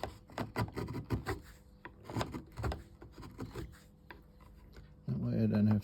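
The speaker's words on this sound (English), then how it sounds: "Because I want a nice finish here, I'm just going to finish this off just with the chisel." A chisel shapes a wooden tomahawk handle in a run of scraping, shaving strokes with irregular rhythm, close by, and a low hum at the very end.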